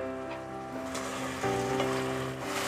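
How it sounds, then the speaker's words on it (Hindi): Tomatoes frying in a pan for paneer changezi, a continuous close sizzle with a slight shift partway through, no talking. "4 minutes तक अच्छे से भूनेंगे हम टमाटर को भी"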